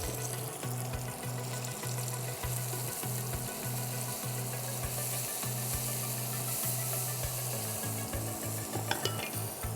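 Kashmiri chili, cumin and turmeric powder fry in a pan with a steady sizzle, a spoon scraping and stirring in repeated strokes, while a low mechanical hum drones underneath.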